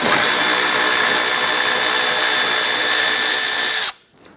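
Power tool running steadily on a bumper bolt of a 2011-2018 Ram 1500 during headlight bracket work, a loud continuous high whine for about four seconds that cuts off abruptly, no talking.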